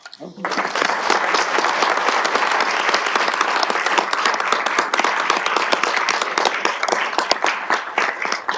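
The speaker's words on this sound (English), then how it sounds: "please join me in another round of applause" After a short quiet start, an audience at a Chattanooga city council meeting breaks into sustained applause, many hands clapping densely and close for about eight seconds, with a few voices mixed in.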